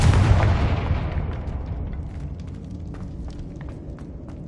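A Confringo fire-blast spell explodes in Hogwarts Legacy, one heavy booming burst up front that rumbles and decays over several seconds with faint crackles trailing.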